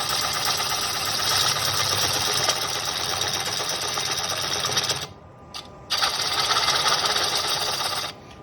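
A wood lathe spins a finished bowl that has been remounted in chuck jaws, a loud steady whirring motor drone that drops away briefly near the end and then starts up again.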